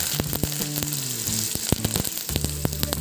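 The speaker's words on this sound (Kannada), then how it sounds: "ಈಗಿದು ಸಾಸಿವೆ ಹಾಕಿದೆ ನೋಡಿ. ಇದು ಚಟಪಟ ಅನ್ನಬೇಕು." Mustard seeds, cumin and curry leaves crackle and spit in hot oil for a dal chutney powder, with dense rapid pops over a constant close sizzle and a low hum running beneath.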